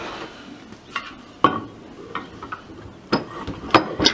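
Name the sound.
oiled vise slide sliding into the vise body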